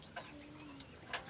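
A golden pigeon pair coos softly nearby in a loft, a few low, quiet coos with light rustling in between.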